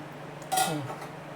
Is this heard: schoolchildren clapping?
no